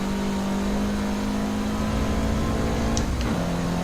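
A Lamborghini Aventador SV race car engine holds a steady, loud drone with a strong low tone, which drops in pitch near the end as the revs shift, alongside a couple of brief higher squeaks, close and continuous with no voices.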